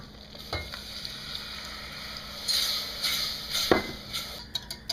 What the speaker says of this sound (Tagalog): Itutuloy lang natin yung paghalo para ma-ensure natin na hindi magbuo-buo yung flour.